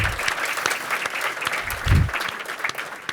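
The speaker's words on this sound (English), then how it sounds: "Let's please give the amazing staff of JCRC New York a big round of applause." Audience applause at a congressional breakfast, with steady clapping from a large indoor crowd, loud and dense with a thump partway through.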